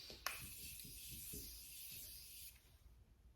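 A fine, airy hiss of spray misting out for about two seconds, fairly close, then stopping abruptly, with faint low rumbling in the background.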